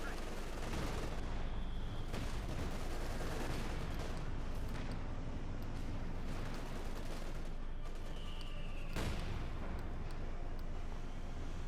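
Stuka zu Fuss rocket artillery barrage in Company of Heroes 2, a dense, continuous roar of battle noise with repeated sharp blasts and whooshing rockets across the whole stretch, loud and unbroken.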